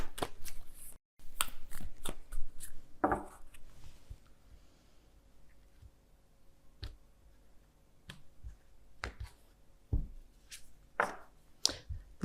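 Light oracle cards being shuffled during a tarot reading, heard as soft intermittent riffles and taps scattered across a quiet room, with a few sharper slaps of the deck standing out.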